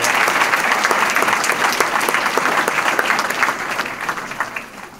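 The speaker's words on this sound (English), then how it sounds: "Let's please give Mr. Schrimsher another round of applause" Sustained audience applause for Mr. Schrimsher at a lecture event on Ohio corporations, loud dense clapping that thins and tapers toward the end.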